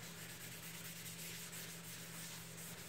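A red Scotch-Brite pad scuffs painted metal ahead of priming, giving a steady, continuous abrasive rubbing hiss with no pauses, close and fairly quiet.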